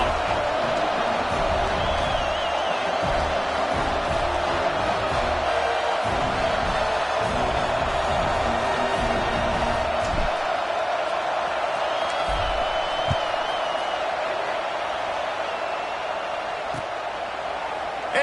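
Stadium crowd at a Nebraska college football game after a score, a steady broad murmur of many voices with scattered faint whoops throughout, continuous and moderately loud.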